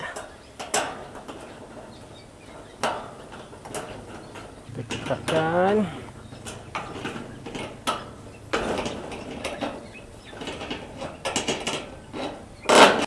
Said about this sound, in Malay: ok kita skrukan balik